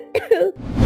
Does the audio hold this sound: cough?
yes